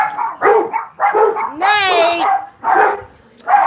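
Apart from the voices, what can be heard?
hound dogs barking excitedly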